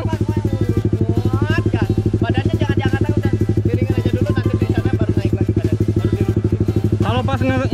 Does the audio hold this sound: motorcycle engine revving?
yes